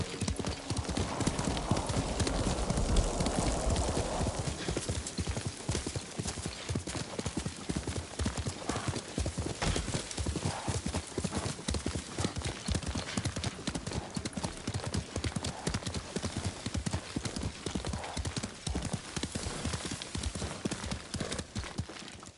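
Horse hooves gallop in the Ghost of Tsushima video game, a fast, loud, rhythmic pounding that runs continuously, with a brief whinny near the start.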